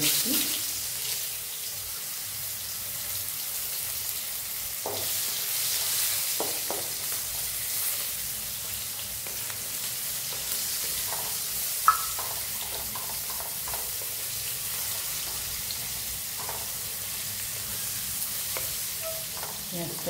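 Onions sizzling in hot oil with nigella seeds, a soft, even frying hiss under occasional stirring scrapes and clinks from the pan, heard close and steady throughout.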